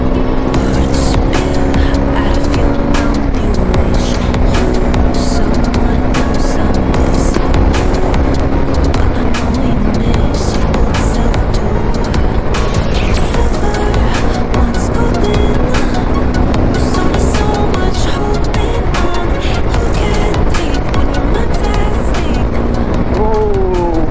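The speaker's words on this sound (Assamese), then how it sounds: "ব'লা তেন্তে অলপ মানে বাইকখন দৌৰাই চাওঁ নে কি কোৱা" A new motorcycle ridden along a road, engine droning steadily with rising and falling pitch as it shifts gears, wind noise buffeting close by, with a voice talking over it at times.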